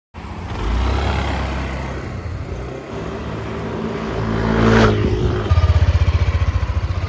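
A Yamaha Aerox 155 scooter's engine idles and revs close by, with a steady exhaust note that builds to a louder rev and then settles into a rapid, pulsing throb.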